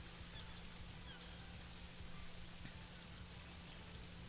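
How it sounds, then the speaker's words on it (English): Steady rainfall in the Paradise Killer video game, a constant soft hiss of drops on surfaces with a faint low hum beneath, unbroken and even throughout. "I hate that the rain is a lot louder than the music."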